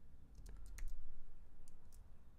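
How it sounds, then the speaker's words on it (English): Keystrokes on a computer keyboard as a word is entered into an app search bar, a short burst of several clicks followed by a pause and two more taps, close and fairly quiet over a low background hum. "we're going to go to the search bar and we're going to type in icon"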